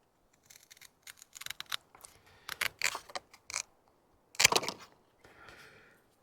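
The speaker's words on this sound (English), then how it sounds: "So we just go and cut off this gray tab." Snipping through a small gray plastic tab on an RV holding-tank sensor, heard as a series of crisp cutting clicks and scratchy snips in quick bursts, close up with no talking.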